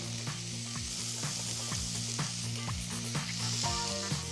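Onion and garlic sweating in olive oil in a pan give a steady, close sizzle, interrupted every half second or so by the clink and scrape of stirring against the pan.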